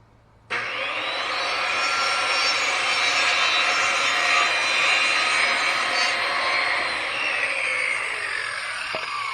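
A power saw cuts through wood for the fascia side of a roof truss, starting abruptly after a brief quiet moment and then running as one loud, steady, continuous cut for the rest of the clip, with no talking.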